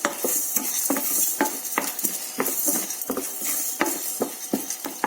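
Ingredients dry-roasting with chili in a pan, stirred briskly: rapid, regular scraping and clinking of a utensil against the pan, close and fairly loud, with a faint sizzle beneath.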